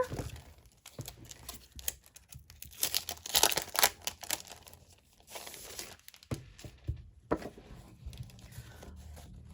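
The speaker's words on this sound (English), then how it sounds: "I'm going to open the paper." Wrapping paper on a monthly planner subscription box is unwrapped, giving repeated bursts of crinkling and tearing at close range, with short pauses between rustles and no talking.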